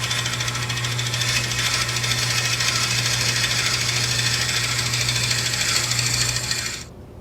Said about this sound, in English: we're going to bore a hole about 1 inch deep